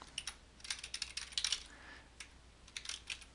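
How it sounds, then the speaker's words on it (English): Fingers type on a computer keyboard while filling in account details, producing short bursts of close, crisp key clicks with brief pauses between them. "so I'm going to type in"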